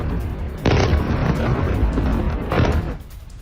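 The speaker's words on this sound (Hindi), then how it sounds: "बंकर बस्टर बॉम्ब का इस्तेमाल किया गया है और इस बॉम्ब के इस्तेमाल से ये पूरी इमारत चंद सेकंड्स में जमींदोज हो गई" Heavy boom of a bunker buster bomb hitting a building and collapsing it, with two broad loud blasts of rumbling debris and no voices.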